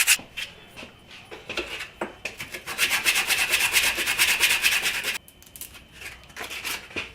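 A cedar fence-picket crankbait lure is hand-sanded in rhythmic back-and-forth rasping strokes, close and crisp, starting in spaced bursts, then speeding into a rapid continuous scrubbing run before a pause and a few final strokes.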